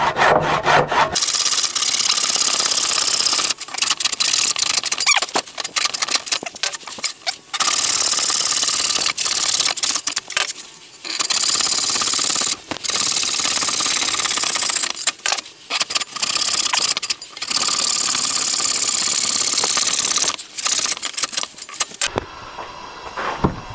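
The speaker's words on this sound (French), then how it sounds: "Je les découpe grossièrement parce que après elles vont être rabotées" Rough crosscuts through wooden boards with a saw, a loud, harsh, repeated rasping with short pauses between passes and a final clunk near the end.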